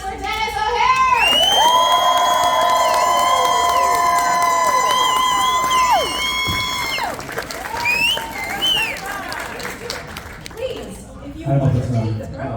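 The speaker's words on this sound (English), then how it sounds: "Big round of applause for Dennis O'Hare." An audience at a Spooky Empire fan convention Q&A breaks into loud applause and cheering with whoops and shouts as a guest is welcomed to the stage, sustained for several seconds before easing into scattered claps and chatter.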